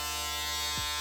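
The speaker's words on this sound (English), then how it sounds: "you could grab your shaver and just work about like half an inch under where you put your first guideline" An electric shaver buzzes steadily up close while cutting hair for a mid bald fade, a continuous one-second hum with no talking.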